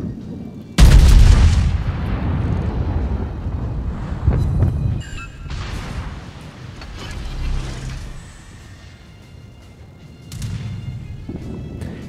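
Heavy naval artillery in World of Warships, a sudden loud broadband blast followed by rumbling booms and impacts rolling on for several seconds, with a second swell of low rumble near the end.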